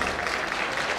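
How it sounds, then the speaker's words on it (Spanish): Guests applaud at Stephanie's XV birthday celebration, a brief, dense and steady wash of many hands clapping at once, with no voices standing out. "quisiera que recibiéramos con un fuerte, pero fuertísimo aplauso a Stephanie y su corte de honor"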